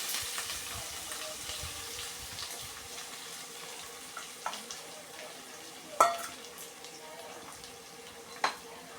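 Chopped onion, ginger and garlic fry in a pan for biryani with a faint, low sizzle. A few sharp clinks and stirring knocks stand out, and a voice speaks briefly.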